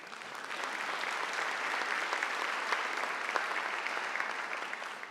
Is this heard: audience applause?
yes